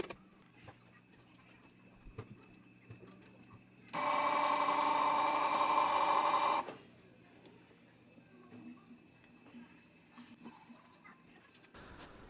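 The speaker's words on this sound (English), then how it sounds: "I can jog the machine to the exact point I want it using the joypad" The axis of a converted CNC mill is jogged from a joypad, giving one close, steady motor whine that lasts about three seconds against a quiet workshop background.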